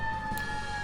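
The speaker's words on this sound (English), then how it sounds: "Sorry about the sirens in the background." A siren wails steadily in the distance, a sustained tone hanging in the background for a brief moment.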